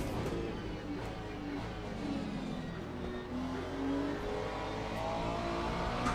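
A McLaren race car in the Le Mans Ultimate racing game holds a steady, droning engine note that rises and falls in pitch through gear changes, continuous and moderately loud, with no talking.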